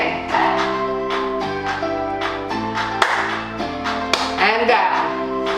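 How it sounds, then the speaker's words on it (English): Several sharp hand claps punctuate an exercise routine over steady background music, spaced irregularly and standing out as crisp, loud transients, with a voice present in the mix. "And clap."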